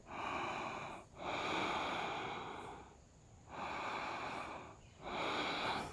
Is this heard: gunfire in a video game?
no